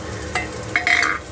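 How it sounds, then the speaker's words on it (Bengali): Garlic and onion for chow mein sizzle briefly in a pan, with a couple of short scraping stirs over a steady background hiss. "পেঁয়াজটাকে একটু ভাজা ভাজা করে নিতে হবে"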